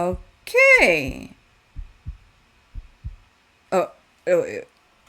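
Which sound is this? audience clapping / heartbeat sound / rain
heartbeat sound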